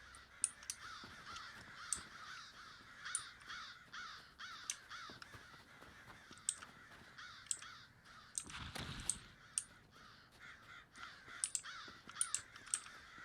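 Crows cawing repeatedly in the Elder Scrolls Online world, several birds calling at irregular intervals over a steady ambient bed with a brief rumbling swell midway.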